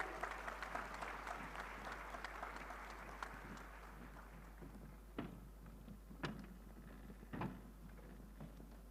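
Audience applause fills a hall at an international conference of drug regulatory authorities, a dense sustained clatter of many hands that gradually thins, with a few sharper knocks standing out toward the end.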